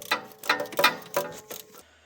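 A socket ratchet with a small extension working a 12mm alternator bolt loose on a 2012 Toyota Highlander, several quick close clicking bursts in an uneven rhythm, then a brief pause.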